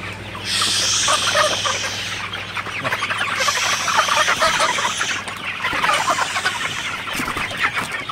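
A crowd of Sonali hybrid chickens clucks and murmurs continuously in a poultry shed nearby, with a low mechanical hum underneath.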